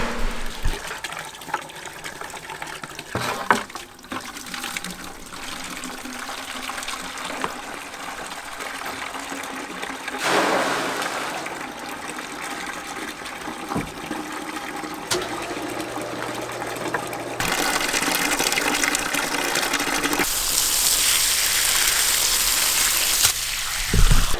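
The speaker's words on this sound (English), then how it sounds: "I emptied as much as I could and then put some fresh water in and stirred up all the sediment again" Water gushes and sloshes continuously nearby as fresh water is poured into a well and stirred through sediment, with swirling turbulence that grows louder and fuller toward the end.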